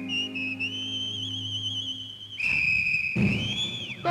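A clear, steady whistled melody with long sustained notes and gentle wavering, carried over a low background hum and some rumbling noise.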